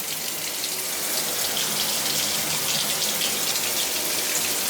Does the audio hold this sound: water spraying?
yes